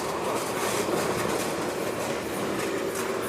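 A Ryomo Line train in Japan rushes past close by, its steady roar and rail clatter filling the whole moment without pause.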